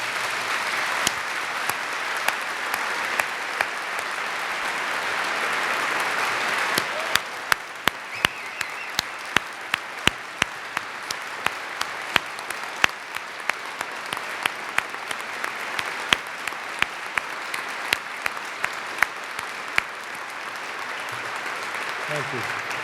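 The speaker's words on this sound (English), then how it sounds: "Let's give them a round of applause." Audience at a state education address breaks into broad applause, a continuous wash of clapping with several louder, sharper claps standing out nearby as it carries on.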